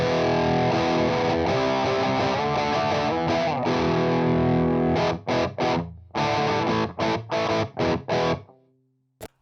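Electric guitar through a Boss Metal Zone pedal with distortion nearly off and other controls nearly flat, heavily distorted sustained chords, then a series of short choppy stabs with gaps, ending on a fading ring.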